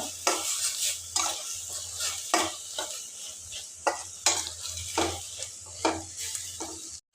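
Sauces and pepper powder with garlic and dried chili paste being stir-fried in a pan for fried rice: a steady sizzle broken by repeated scraping spatula strokes at an uneven rhythm, close by, with no talking.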